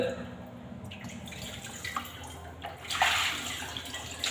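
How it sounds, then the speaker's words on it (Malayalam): Water poured over bathroom tiles during cleaning splashes and trickles close by, swelling into a louder gush near the end against a faint background hiss. "അതിനുശേഷം നമുക്ക് കുറച്ച് വെള്ളം ഇതുപോലെ ഒഴിച്ചു കൊടുത്തു കഴിഞ്ഞാൽ"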